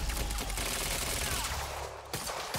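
Rapid, dense gunfire from the video game Quantum Break, a loud burst of shots for about two seconds that cuts off abruptly, followed by a few scattered sounds.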